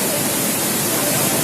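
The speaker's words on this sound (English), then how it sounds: "You can see here the Panimur waterfalls." Panimur waterfall in Dima Hasao, Assam, heard as a dense, steady roar of falling water that stays loud and even, with no other sounds.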